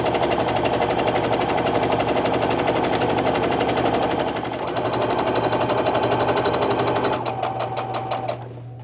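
A sewing machine stitches quilt strips for a fat-quarter lattice block with a fast, steady, close mechanical chatter that runs throughout, easing slightly near the end as it slows.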